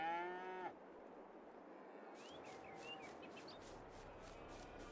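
Cattle in the farming game Farming Simulator 22, a single short moo opening the moment, then a quiet ambient farm bed with faint bird chirps, no talking.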